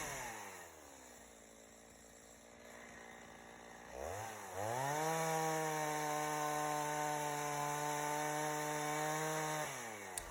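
A chainsaw cuts into a hollow, rotten madrone trunk, idling at first, then revving up after a few seconds into a loud, sustained high-pitched whine held steady through the cut before easing off at the end.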